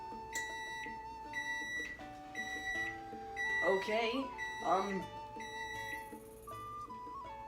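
An oven beeps repeatedly after preheating to 375 degrees for wheat bread, a series of electronic tones of shifting pitch with a brief spoken word and some kitchen noise around them.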